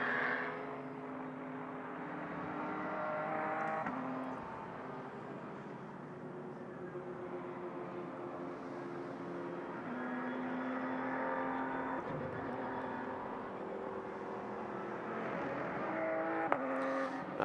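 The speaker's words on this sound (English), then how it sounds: "Just enjoy the sound of that straight six engine for" A flat-six race car engine at Mugello during a four-hour GT endurance race hums at a distance, its pitch rising and falling steadily as it runs without commentary.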